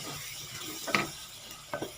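Onion sautéing in a pan for jambalaya gives a faint steady sizzle, with two brief scraping stirs of a utensil against the pan, close and quiet, no voice.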